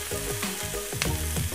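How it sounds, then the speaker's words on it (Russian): Striploin steak frying in a pan, a dense, loud sizzle with sharper crackles and pops through a short stretch, no voices. "Я обжариваю по 2 минуты с каждой стороны"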